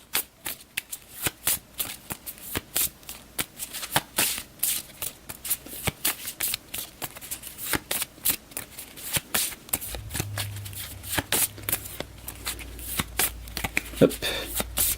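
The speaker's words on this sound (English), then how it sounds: "we have to shuffle the encounters that we've done previously back into the deck" A deck of cards for the Alien: Fate of the Nostromo board game is shuffled repeatedly, giving a rapid, rhythmic riffle-and-tap pattern close up for about fifteen seconds, with a faint low hum near the end.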